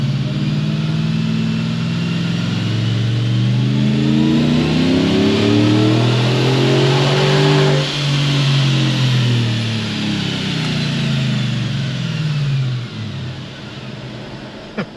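A Callaway-tuned 560hp Chevrolet Tahoe engine pulls hard on a dyno, a loud, steady roar climbing in pitch for several seconds, then winding down and fading near the end, with no talking.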